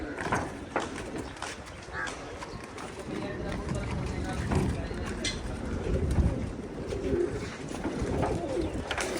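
Pigeons coo and flutter in an outdoor setting, with people chattering and calling in the background throughout.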